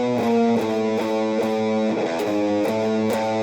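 Distorted electric guitar plays a riff slowly, with heavy sustained chugging notes that shift pitch in steps, loud and close with no talking.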